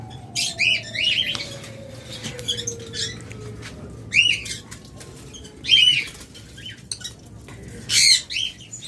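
Caged pet birds (lovebirds, budgerigars and cockatiels) let out bursts of sharp squawks and chirps at irregular intervals, close and fairly loud over a quiet background with a faint falling whistle-like tone.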